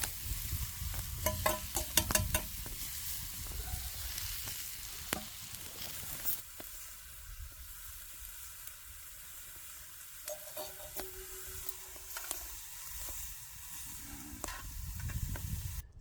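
Mushrooms and spring onion frying in a pan outdoors, a long steady hiss of sizzling with occasional sharp clicks and stirring scrapes, moderately loud and close throughout.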